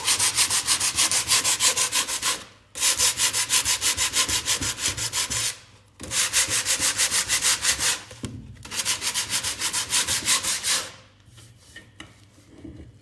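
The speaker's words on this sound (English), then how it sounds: "I'm using an 80 grit piece of sandpaper, and then I have, let me just sand a little bit more" Hand sanding of a previously varnished surface with 80 grit sandpaper makes loud, close, rhythmic rasping strokes in three long runs separated by brief pauses, then trails off to softer rubbing.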